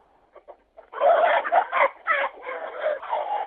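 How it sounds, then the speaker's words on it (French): Chickens cluck inside a henhouse, starting with a few soft calls and then a dense, fairly loud run of overlapping clucks and squawks close by. "actuellement, je suis dans mon poulailler au milieu des poules"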